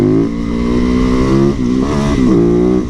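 A motorcycle engine revs loud and close for about three seconds during a two-finger wheelie. The pitch holds steady, then dips and climbs again as the throttle shifts.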